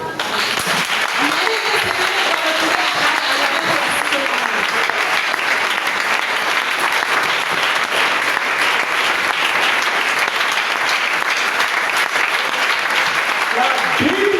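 A church congregation applauds steadily and loudly to acclaim God during a sermon, a dense continuous clapping that fills the space without pause.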